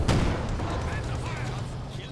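Artillery piece firing in Company of Heroes 2, a single booming shot at the start that rumbles away beneath continuous battlefield ambience, with a caster talking over it.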